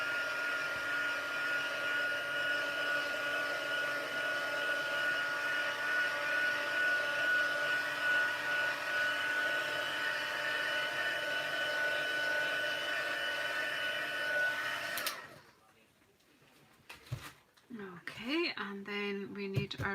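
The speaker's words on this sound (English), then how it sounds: "I've just given it a wee heat blast just to make sure that the ink's completely dried off." A heat tool blows a steady, loud hot-air roar over freshly stamped ink to dry it, running alone for about fifteen seconds before cutting off, followed by faint handling noises.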